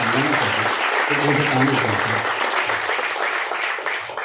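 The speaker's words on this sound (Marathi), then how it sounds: "एक जोरदार टाळ्या झाल्या पाहिजे त्यांच्या" Loud, dense audience applause fills a felicitation ceremony in Pune, clapping steady throughout with a voice briefly audible over it early on.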